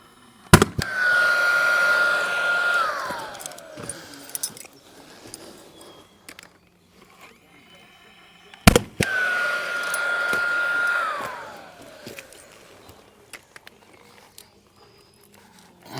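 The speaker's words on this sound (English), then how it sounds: "So I'm gonna put 4 of these in now with the nail gun and see the speed difference." A nail gun fixing SWA cable fires with two sharp close cracks, each followed by a whining motor hum several seconds long that slides down in pitch, with quiet handling noises in between.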